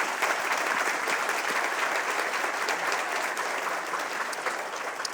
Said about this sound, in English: if we could please have a round of applause for all of our panelists